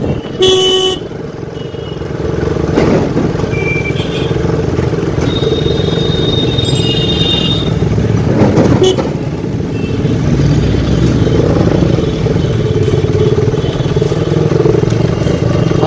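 Motorcycle ride through crowded streets during the Rath Yatra at the Mahesh Jagannath temple, Shrirampur: steady, loud engine and road noise with scattered car and bike horns honking nearby.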